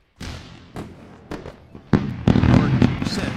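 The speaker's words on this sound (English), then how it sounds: "Let's go for a round of fireworks." Fireworks bursts used as a sound effect on a live day-trading stream, with scattered crackling pops building to a denser, louder barrage toward the end, over a faint voice.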